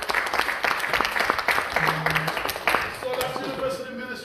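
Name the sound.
audience applause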